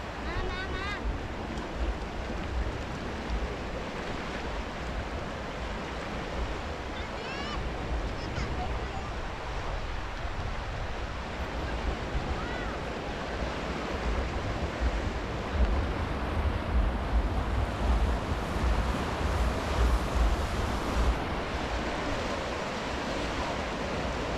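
Water rushes and churns continuously over rapids, with a boat motor droning and wind buffeting the microphone throughout.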